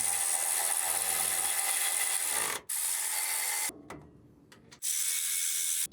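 A hand ratchet cranks the factory bolts of an off-road front bumper on a 2014–2021 Toyota Tundra, giving rapid, close, continuous clicking that stops briefly twice before resuming.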